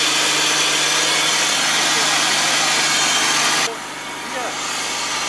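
A BMW car engine idles quietly just after starting, a steady low hum with broadband noise that drops slightly in level near the end, heard close up with people talking nearby.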